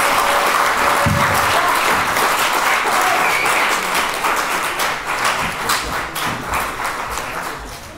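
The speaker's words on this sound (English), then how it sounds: "Give a really big applause for Mitch Nilsson." A crowd bursts into loud, full applause, with many hands clapping in a dense, continuous roar that holds strong before slowly tapering off toward the end.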